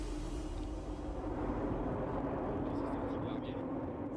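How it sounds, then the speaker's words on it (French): A transport airplane flying very low at night with its lights off to drop paratroopers, its engines a steady, heavy broadband roar that fills the whole stretch without letting up. "un avion tout feu éteint va larguer des parachutistes à très basse altitude"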